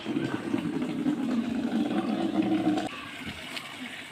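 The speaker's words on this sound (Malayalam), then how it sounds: "ബക്കറ്റിൽ വെള്ളം പിടിക്കുക" Water running into a bucket, a steady close gushing pour that continues strongly for about three seconds before dropping to a lighter trickle.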